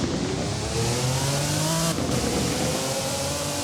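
Engine of a 1991 Jaguar XJR-15 in the Roblox racing game Driving Empire, a steady loud revving drone that rises in pitch, drops after a shift, then climbs again, with no talk.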